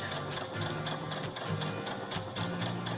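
A Baby Lock sewing machine stitching fabrics together, giving a steady rapid mechanical whir with a regular ticking pulse of the needle, close and continuous.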